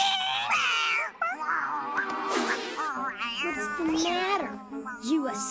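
A cartoon cat meows repeatedly in drawn-out, wavering cries, fairly close and loud, with a brief thump near the start.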